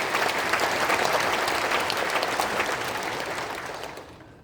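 A church congregation at a prayer meeting marking the Korean War anniversary applauds to welcome a lawmaker, with dense, loud, sustained clapping that fades away near the end.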